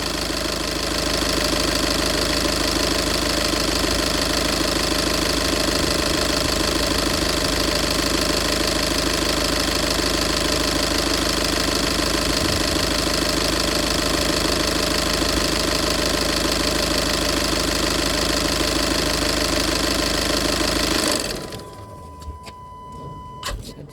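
A 2012 Volkswagen Golf engine idles steadily and loudly with an even mechanical hum and ticking during a service, running unbroken for about twenty seconds before being switched off and falling quiet.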